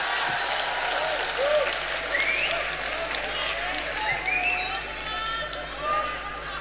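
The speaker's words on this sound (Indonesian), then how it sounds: "Tepuk tangan untuk Indonesia." A crowd at a religious sermon event in Indonesia gives sustained applause, a steady, fairly loud wash of clapping with scattered voices and cries rising through it.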